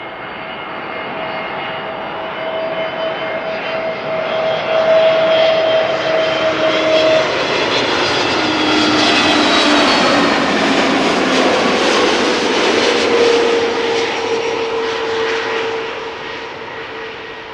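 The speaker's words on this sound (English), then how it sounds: "Number one is EasyJet A320neo arriving from Nice, which is nice." EasyJet Airbus A320neo arriving at Schiphol from Nice, a jet approaching and passing overhead, with engine whine and roar building to a loud peak mid-clip, then easing slightly as it moves away.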